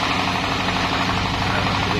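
Diesel engine driving an ADK 18000 watt dynamo generator that powers a sound system, a loud, steady, close-up rhythmic chugging drone with constant mechanical vibration and no break.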